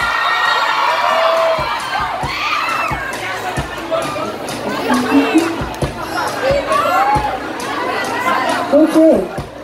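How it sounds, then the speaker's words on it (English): A live concert crowd at a One Sound PH music show cheers, whoops and shouts in a lively, fluctuating roar, with excited voices and chatter rising and falling throughout. "Big round of applause for Jazz all around"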